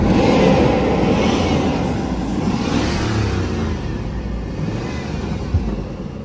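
A Hummer limousine's engine revs under throttle, a steady loud rumbling roar that holds close and constant with slight swells, then eases a little toward the end.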